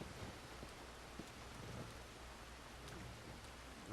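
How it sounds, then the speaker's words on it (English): A rainstorm in the video game Red Dead Redemption 2 gives a steady, soft hiss of falling rain with low rumbling thunder underneath and a few faint drop ticks, no voices over it. "Got another rainstorm."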